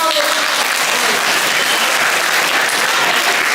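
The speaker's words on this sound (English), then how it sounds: "High five and a clap." Students clapping in a high school assembly, a loud, dense, continuous burst of applause that fills the room at a steady level from start to finish.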